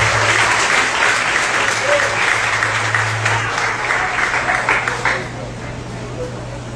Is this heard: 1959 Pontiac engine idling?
no